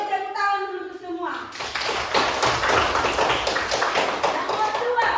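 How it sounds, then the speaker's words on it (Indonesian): Students in an Indonesian classroom lesson burst into applause after a voice speaks, a dense crowd of hand claps that carries on steadily to the end. "Oke, tepuk tangan dulu untuk semua."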